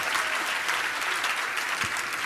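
Audience applause at a question-and-answer religious discourse at a pilgrimage site in Jabalpur, dense, steady clapping from many hands, sustained and even throughout with no pauses.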